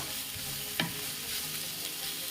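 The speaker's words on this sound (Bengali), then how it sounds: "পেঁয়াজটাকে একটুখানি কভার করে ফ্রাই করলাম" Onions fry in a covered pan with a steady, close hiss of sizzling oil, broken by one brief clink of a utensil against the pan, and no talking.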